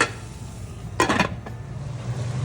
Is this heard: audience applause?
no